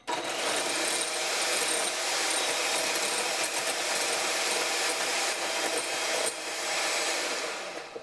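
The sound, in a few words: electric mixer whipping aquafaba in a bowl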